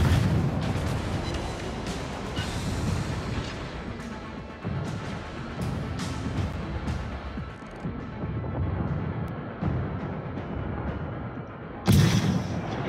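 Dense video game battle sounds with continuous gunfire and booming explosions rolling throughout, loud and chaotic, with a sharp louder blast near the end.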